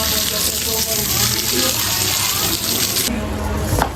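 Tap water runs and splashes steadily into a sink, a broad continuous rush that shifts near the end as the flow changes, with a faint voice in the background.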